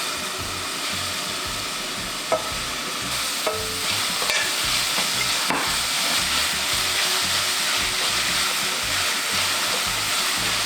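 Garlic and onion stir-fry in oil in a pan, a loud, even sizzle that runs without a break, with occasional spatula scrapes and clicks in the first half.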